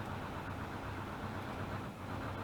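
A semi-truck engine in the BeamNG.drive driving game drones with a steady, low rumble at moderate level, sustained without clear revs or talk.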